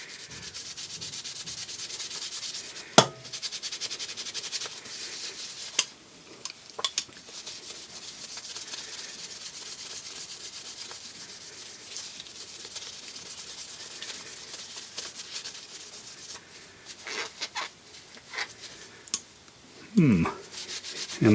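Old Klein pliers carrying paint, rust spots and staining, wiped down with Snap-on steel wipes, making a steady close rubbing and scrubbing with a few sharp metallic clinks.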